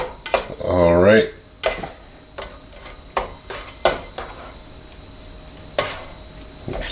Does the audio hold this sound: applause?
no